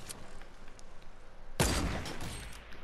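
A burst of Fortnite gunfire cracks out loud and close, a rapid volley of shots after a quieter stretch of distant battle noise.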